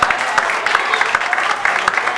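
A concert audience gives a performer dense, continuous applause. Many hands clap at once at moderate loudness, with occasional sharper individual claps rising out of the wash.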